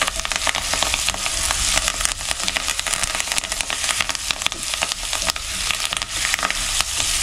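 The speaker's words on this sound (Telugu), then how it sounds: "ఇవన్నీ కూడా ఫ్రై చేసుకోవాలి" Sliced onions and curry leaves frying in a pan for methi dhal: continuous loud sizzling and crackling, dense and close, with scattered sharp pops throughout.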